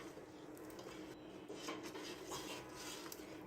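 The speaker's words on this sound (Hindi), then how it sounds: "ये मेरे पास है 1 टेबलस्पून और यहाँ पे हम इसे मिक्स करेंगे।" Garlic ginger paste being mixed into mutton in a pot, faint scraping and clinking of a utensil against the metal with soft irregular stirring.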